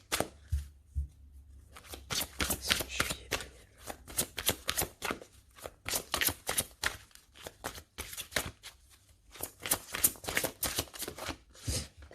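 Oracle cards being shuffled by hand, a close series of rapid riffling bursts separated by short pauses, repeated many times with no talking.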